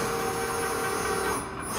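A CIDAN FS sheet metal folder with XSpace runs a half-inch hem on a variable pitch drip edge, giving a loud, steady mechanical whir and hum that continues without a break.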